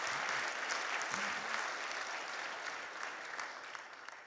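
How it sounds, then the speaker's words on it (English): Applause for a speaker at a lecture series event, a steady wash of clapping from a seated audience, moderately distant and continuous, slowly fading toward the end. "Mr. King, give him a round of applause for his international work."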